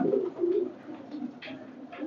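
Pigeons in a loft coo softly and close by, a series of low, repeated throaty calls with a few brief higher notes between them.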